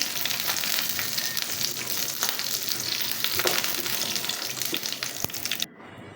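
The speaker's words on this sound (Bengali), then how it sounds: "আমি একটু ভেজে নিচ্ছি পেঁয়াজা রসুন বাদাম শুক্তো মরিচ একসাথে বেঁধে নিচ্ছি" Onion, garlic, peanuts and dried chili fry together in hot oil for a Bangladeshi peanut bhorta, making a steady, close sizzle with occasional stirring scrapes until it cuts off near the end.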